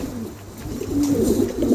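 A King pigeon coos in low, throaty, rolling notes, close by and fairly loud, with no voices.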